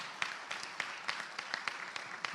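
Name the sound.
audience applause at an annual meeting dinner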